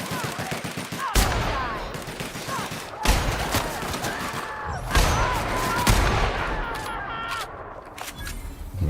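Gunfire in the video game The Outer Worlds: bursts of shots crack at about 1, 3, 5 and 6 seconds over a continuous busy layer of game sound and effects.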